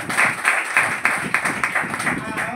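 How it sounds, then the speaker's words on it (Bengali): An audience claps together at a gathering, with steady rhythmic claps repeating throughout while a voice speaks over them. "আমাদের যে সিনিয়র টেকনিক্যাল লেকচারার সম্প্রদায়ের জন্য জোরে হাততালি।"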